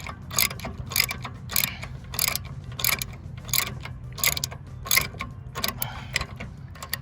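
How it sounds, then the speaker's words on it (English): A ratchet wrench clicks in repeated short bursts, close and crisp, while tightening the pivot nut on an old-school National Triplex fairway reel mower, with a steady mechanical hum underneath. "Tighten this one first, the pivot nut."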